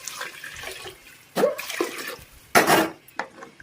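Water is poured into a pot of soaked rice for tomato rice, giving splashy gushes with metallic clinks from the pot in two main bursts.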